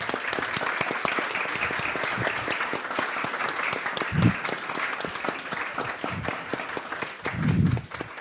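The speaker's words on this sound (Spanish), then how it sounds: "un aplauso para Lucas" Audience applause for the speaker after a talk about his book on Christianity and postmodernity, a sustained dense clapping crowd with a few sharper individual claps and faint voices beneath.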